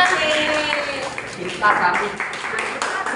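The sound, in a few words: class applauding a group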